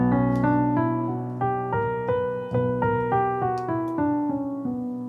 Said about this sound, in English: One of the reasons is it makes use of the harmonic minor scale